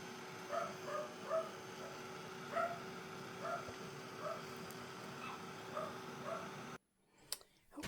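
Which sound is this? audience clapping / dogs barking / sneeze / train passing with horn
dogs barking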